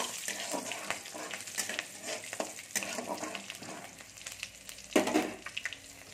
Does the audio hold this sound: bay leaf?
yes